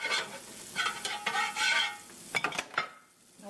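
Margarine heating with cheese in a pan on a stove, giving a soft sizzle with intermittent scraping and stirring clicks from a utensil, fairly quiet and close, with no talking.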